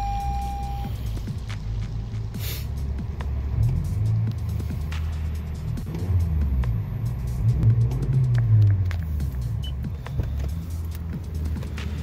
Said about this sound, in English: This is a warm start. Obviously, cold starts will be louder.